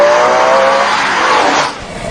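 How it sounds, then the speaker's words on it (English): A Ferrari 612 Scaglietti with a V12 engine roars loudly and close by in a continuous, smooth rush of power, then drops off sharply near the end of the brief burst. "But the best thing about any Ferrari is the engine. It's the heart of the car. It's a V12"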